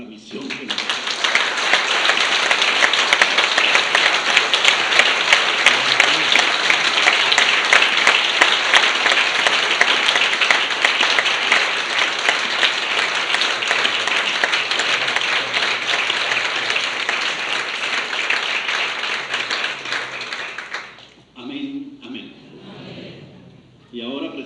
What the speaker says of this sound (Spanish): Un aplauso al Dios viviente por la misión que nos da.